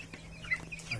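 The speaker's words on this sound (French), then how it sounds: "Ça c'est une poule soie silky." A few soft, close clucks from a Silkie hen, brief and quiet against faint background noise.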